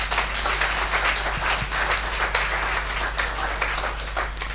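A church congregation at a sermon on holiness breaking into sustained applause, a dense wash of many hands clapping over a steady low electrical hum, with no voices.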